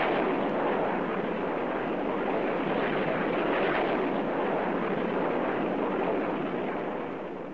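Soviet MiG-21 jets attacking ground targets with UV-16-57 unguided rocket pods and twin 23mm internal cannon, heard as a dense, continuous roar of firing and blasts that holds steady throughout.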